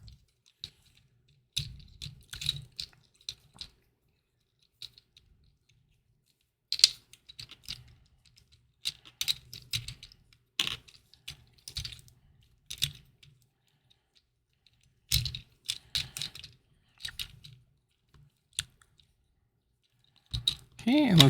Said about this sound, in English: twist his body the right way. Okay, and that'll click right in there.